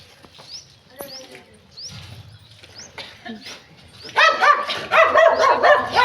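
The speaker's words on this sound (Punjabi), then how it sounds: "ਮੈਨੂੰ ਭੌਂਕਦਾ ਨਾ ਮੈਨੂੰ ਭੌਂਕਦਾ" A dog barks in a home setting, sharp yips and barks growing louder and more frequent toward the end, with people talking in the background.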